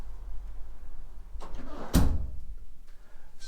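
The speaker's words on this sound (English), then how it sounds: "So we'll open the door and let it shut." A door swinging shut under an overhead door closer that is probably out of oil, ending in a single solid thud close by after a faint earlier knock, in a quiet room.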